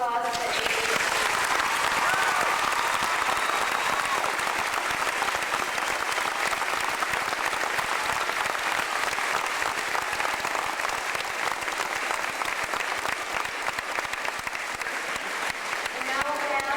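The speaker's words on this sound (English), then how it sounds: "Let's give a round of applause for Amy." Sustained applause from an audience at an 8th grade graduation ceremony, a dense steady patter of clapping that fills the room and holds loud for the whole span before tapering slightly near the end.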